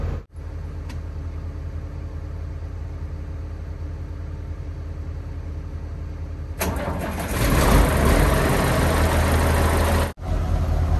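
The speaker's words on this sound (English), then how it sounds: "So we're gonna do a will it start on the crusher." A car engine on a car crusher at a scrapyard idles steadily for several seconds, then cranks and revs louder, close and rough, before cutting off abruptly.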